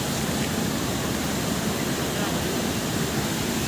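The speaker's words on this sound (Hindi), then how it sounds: "ये देखिए, पानी बह रहा है," Water flows beside the Vaishno Devi pilgrimage path as a steady, close rushing hiss. It stays constant and unbroken with no talk over it.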